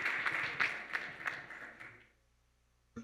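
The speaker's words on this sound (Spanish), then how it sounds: "un aplauso tal vez a los panelistas por el apoyo" Scattered applause from a conference audience for the panelists of a public-sector AI panel, uneven claps that thin out and stop after about two seconds, leaving near silence before one last sharp sound.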